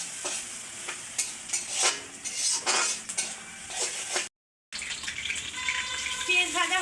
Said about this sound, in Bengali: তো পেঁয়াজটা আমি একদম বেরেস্তা করে নেব।